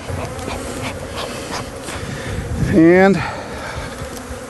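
Honey bees buzz around an opened hive, a steady close hum with one louder, rising buzz as a bee passes near, and a brief spoken word.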